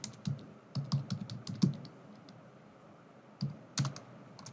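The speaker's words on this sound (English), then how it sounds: "So I'm typing here" Keys on a computer keyboard are tapped in short uneven bursts with brief pauses between, close and fairly quiet, and no one speaks.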